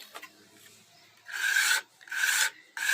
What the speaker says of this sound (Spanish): Emprolijamos los laterales.